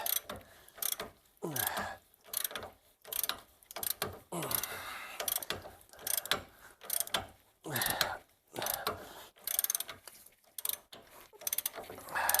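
A ratchet tightens a ball joint bolt on a Mercedes W163, giving bursts of quick close clicking strokes separated by short pauses, with brief quiet talk in between.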